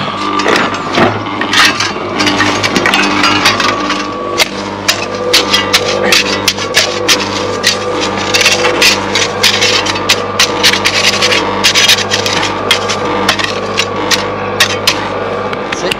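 Repeated dull knocks from a rubber hammer on a wooden pillar, irregular and fairly loud, mixed with scraping and rubbing against wood.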